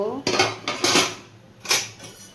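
Metal pot lid set onto a pot of boiling pointed gourd in a home kitchen, giving a few sharp clanks and clatters up close, with brief rattles between.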